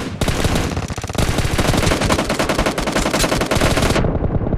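Rapid automatic gunfire from a PUBG Mobile team deathmatch, loud dense bursts of shots packed closely together, ending abruptly near the end.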